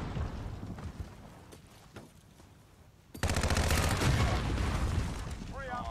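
Gunfire from a Call of Duty 2v2 gunfight: scattered faint shots at first, then a sudden loud stretch of rapid automatic fire that continues to the end, with light commentary underneath.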